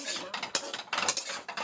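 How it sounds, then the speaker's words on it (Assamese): Chow mein is stir-fried in a pan with a utensil scraping and clinking against the metal in quick irregular strokes, over a soft hiss, close and fairly loud, with no voices. "এইটো দেখিছে ভাজি আছে, চাওমিন বনাই আছে"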